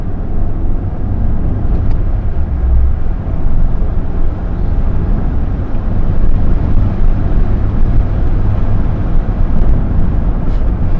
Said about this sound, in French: on va accélérer un peu tiens